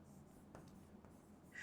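A question is written by hand with faint, soft scratching and a few light strokes, very quiet and close.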